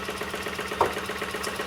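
A homemade Stirling engine with a new displacer runs while driving a small generator. It gives off a steady, quiet mechanical whir with one brief tick partway through.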